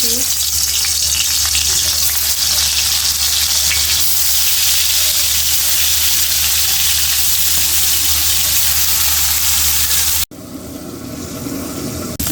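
Fish fries in hot oil in a pan, a loud, steady, close hiss of sizzling that cuts off sharply near the end and is followed by quieter noise.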